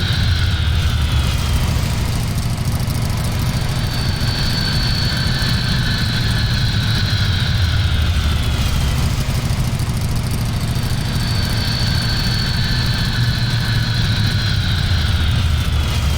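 A modded aircraft in a flight simulator drones with a loud, steady engine rumble and a whining tone that rises and falls in slow waves.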